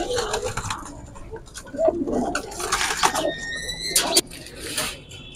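Pigeons in a loft holding silver fighter and other fighter pigeon breeds coo and call close by, several soft throaty coos and chirps with people talking intermittently.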